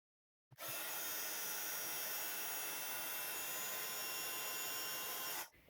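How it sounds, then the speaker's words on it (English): A heat gun blows steadily and loudly close by while melting gold embossing powder on a stamped card, a continuous rushing roar that holds level for about five seconds before cutting off. "I'm going to stamp this in embossing ink and heat emboss it in gold"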